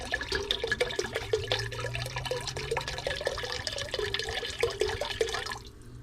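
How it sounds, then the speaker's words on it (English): Dry white wine poured into a simmering fisherman stew broth of bone broth, clams, mussels, shrimp and squid, a steady liquid splashing and trickling over a bubbling pot for about five seconds before stopping. "And now I'm gonna do a little bit of white wine. This is a dry white wine."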